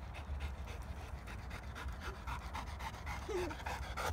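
A dog pants rapidly and steadily after running downhill and uphill, the quick close breaths continuing through the whole stretch with no talking.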